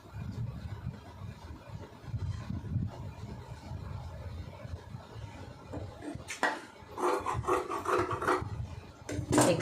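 Scissors cut through blouse sleeve fabric for a 3/4 sleeve lining blouse, a rasping, rubbing crunch that grows louder and choppier in the later part, close by with no talking.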